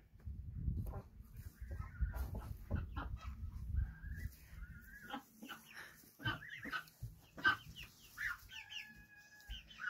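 Baby geese and ducklings in a pen give soft peeping calls and chirps, close and scattered, over low rustling and shuffling in the bedding.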